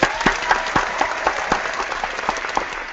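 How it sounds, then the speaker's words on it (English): Audience applause for a panel guest at a talk on decluttering and sustainability, a steady wash of many hands clapping with sharper individual claps standing out, moderately loud and unbroken for about three seconds, with no one speaking. "I want to give a big round of applause."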